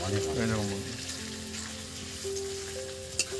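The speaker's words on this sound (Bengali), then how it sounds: "এবার দেখুন পেঁয়াজটা কিন্তু একটু ভালো করে ভাজতে হবে" Onions fry in hot oil for chicken pulao, producing a continuous close sizzle and crackle under someone talking.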